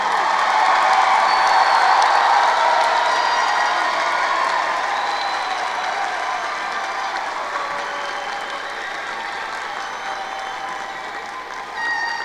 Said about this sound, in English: let's have one more round of applause for all our 2025 graduates